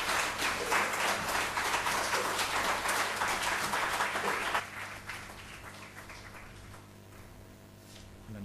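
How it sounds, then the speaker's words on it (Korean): Church congregation applauding to welcome the pastor, a dense burst of clapping for about four and a half seconds that then thins to a few scattered claps and fades out. "우리 목사님 나오실 때 우리 박수로 크게 환영해 주시기 바랍니다."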